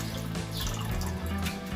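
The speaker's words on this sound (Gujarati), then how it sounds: "અને થોડુંક પાણી આવે આમાં નાખી દઈએ." Cold water poured over homemade butter to wash it in a home kitchen, a steady splashing and trickling sound heard up close, continuous throughout with no talking.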